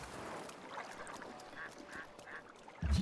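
Quacking ducks in Breath of the Wild, a few short, soft quacks in a row at mid distance over a quiet ambient bed, ending with a low thump.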